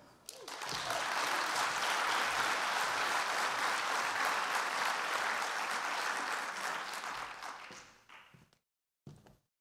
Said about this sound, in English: So everyone, please put your hands together for Megha.